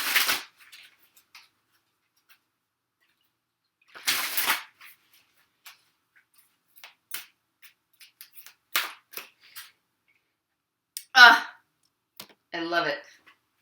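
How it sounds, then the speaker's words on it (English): Oracle cards are pulled from two decks: sporadic soft flicks, riffles and papery snaps, quiet and close, separated by stretches of near silence, with a short faster shuffle burst near the end. "I'm going to pull a final outcome card for the month of February"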